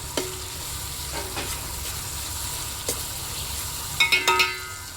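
Tomatoes and onions fry in a pan with a soft continuous sizzle, while a utensil taps and scrapes the pan several times and a cluster of quick metallic clinks comes near the end. No one speaks.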